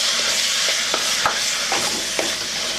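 Chicken being stirred into curry in a hot pan gives a steady loud sizzle and fry, with scraping spoon strokes and light taps against the pan at intervals and no talking.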